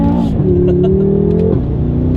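A BMW M6 Gran Coupe with a 7-speed dual-clutch transmission revs hard toward the red line, a loud, sustained engine roar heard from inside the car, its pitch climbing and then dropping as the gear changes.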